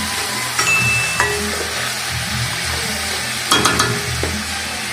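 Food frying and sizzling steadily in a pan while a utensil stirs it, with occasional clinks and scrapes against the pan in a home kitchen.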